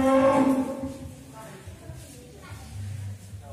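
A large sacrificial bull, a heavy cow weighing close to a tonne, lows once loudly and nearby at the start, a long low bellow that fades into farmyard background noise.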